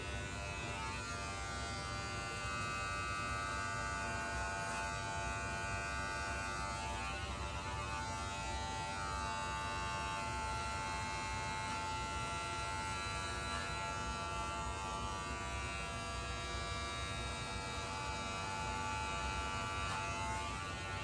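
Electric hair clippers run with no guard during a self-administered mid drop fade, a steady close motor buzz with a high whine that holds without pause for the whole stretch, no talking.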